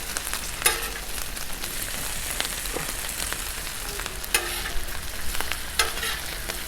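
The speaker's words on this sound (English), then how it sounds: "let's start flipping these guys." Sausages and eggs cooking on a 36-inch Blackstone griddle give a steady, close, dense sizzle with occasional sharp scrape and flip clicks, no voices present.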